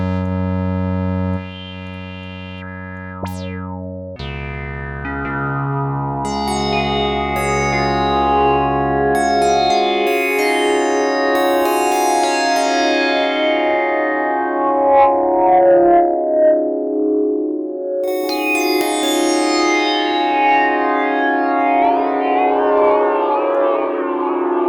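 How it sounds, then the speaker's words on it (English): A Cherry Audio Mercury-4 software synthesizer plays a basic patch: sustained chords and bright plucked notes with echo and chorus effects, building into layered, shimmering phrases at steady loudness, with no voices. "basic synth sound without too much going on"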